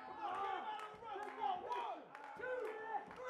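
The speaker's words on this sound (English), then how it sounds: "The Cole County Crusher fans are clapping" A wrestling crowd claps and cheers loudly and continuously, with shouting voices mixed into a busy arena roar.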